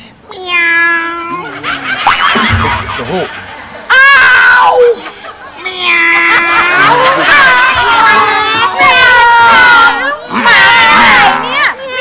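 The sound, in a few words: person imitating a cat meowing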